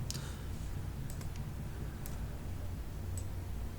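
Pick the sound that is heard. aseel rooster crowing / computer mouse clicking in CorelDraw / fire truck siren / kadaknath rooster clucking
computer mouse clicking in CorelDraw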